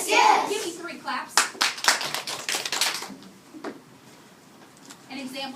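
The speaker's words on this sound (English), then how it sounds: "Give me 3 claps." A school class claps together on cue, sharp crisp group claps landing close and loud amid children's chatter and classroom bustle.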